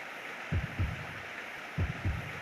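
Heartbeat sound effect from the video game Zero Time Dilemma, two paired low thumps repeating at a slow steady rhythm over a faint hum, heard alone.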